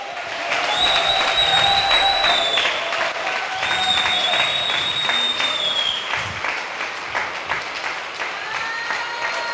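A crowd applauding steadily throughout, dense clapping with some cheering, while a voice speaks over it and sustained musical tones ring in the background.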